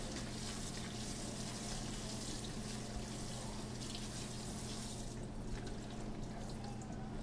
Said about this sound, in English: Then we take our next vegetable, which is tomatoes, empty them into the same bowl, and rinse again.